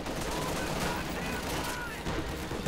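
MG42 machine gun fire in the Company of Heroes 2 game, a dense, loud burst of rapid shots mixed with battle noise over a full three seconds, with a commentator speaking over it.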